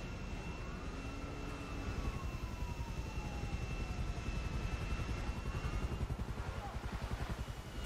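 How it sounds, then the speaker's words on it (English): An airplane flies by in GTA 5 Online, a loud continuous droning engine roar with rising and falling whining tones, heard alone without talking. "There's a plane!"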